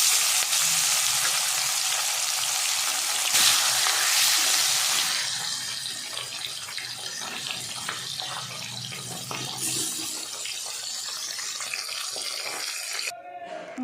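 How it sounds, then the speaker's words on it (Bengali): Fish pieces frying in hot oil in a pan, a steady close sizzle with stirring and scraping that is louder at first and then settles into a softer, even crackle, with no talk. "এবার আমি মাছগুলো একটা একটা করে ভেজে নেব।"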